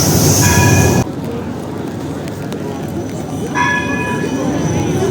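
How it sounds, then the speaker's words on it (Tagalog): A fast train passes in a Netherlands city, a rumbling rail roar with high ringing squeals or bell tones near the start and again toward the end, heard close and steady. "Ganda ng train dito, mabilis."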